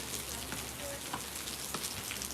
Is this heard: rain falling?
yes